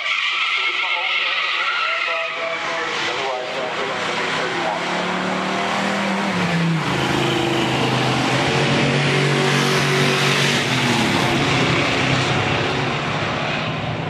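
A 1970 Buick GSX and a 1968 Olds Ram Rod drag racing, with loud continuous engine roar that shifts in pitch as the cars accelerate down the strip and an announcer's voice layered over it.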